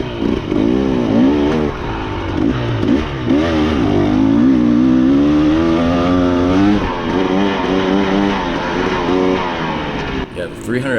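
KTM 300 XCW two-stroke dirt bike engine pulling in third gear, revving up and down in a wavering, buzzy drone that stays loud and close, with a rider talking over it.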